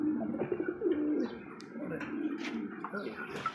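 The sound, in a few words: American fantail pigeons cooing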